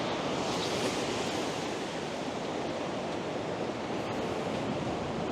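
Waves washing onto a clean beach, a continuous broad roar of surf at fairly close range with gentle swells in loudness and no voices.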